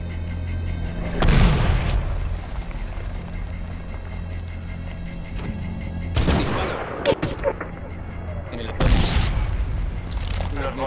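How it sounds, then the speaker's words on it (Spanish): Mortar shells burst in the Medal of Honor video game, three heavy booming blasts spaced a few seconds apart, each with a sharp crack and rumbling tail, over steady battlefield ambience and intermittent gunfire. "¡Fuego de mortero!"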